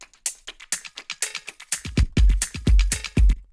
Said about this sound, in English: it has a really short delay that kind of gives it that metallic effect